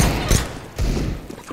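A flashbang grenade thrown in Counter-Strike, two loud booming bursts close by within a second and a half, the second followed by a brief rumbling tail.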